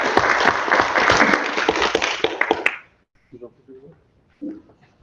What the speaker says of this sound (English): I think another round of applause is due